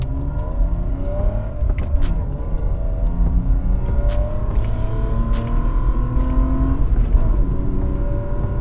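BMW E36 320i with a six-cylinder engine accelerating on the road while chasing a Peugeot 205 GTI, a steady, loud rumbling drone with rising engine tones and clattering from inside the car throughout, no talking.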